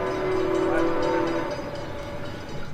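Ambient train interior with a steady rolling rumble and a sustained tonal whine or horn-like tone that fades after about a second and a half, leaving continuous rail noise with faint murmurs of diners.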